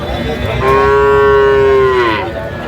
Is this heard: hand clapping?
no